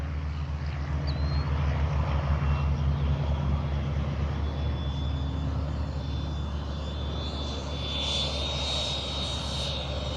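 A Freewing 90mm F-22 RC jet makes a gear-down pass. Its ducted-fan turbine whines and roars steadily and loudly throughout, with a thin high whistle riding on top.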